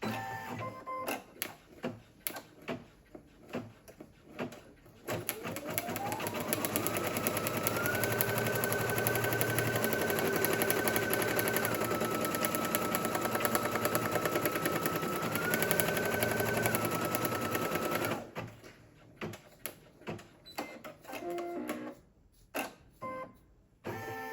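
An embroidery machine sews a placement stitch, starting with several rapid mechanical bursts, then running in a steady loud whirring chatter for about twelve seconds before returning to short stop-start stitching bursts.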